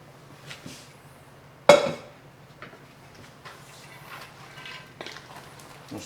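Red beans and rice stirred in a pot, a sudden loud clank of spoon on metal followed by scattered softer scrapes and knocks over a quiet hum.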